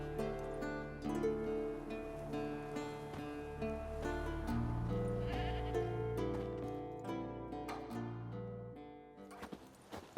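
A goat bleats in The Witcher 3, tied to a stake in the soil as bait for a Forktail. Its bleats repeat over a steady, full in-game background.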